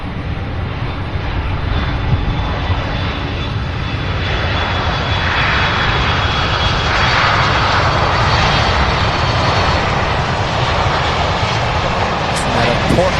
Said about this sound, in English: A Boeing 767. Here we go, making an appearance.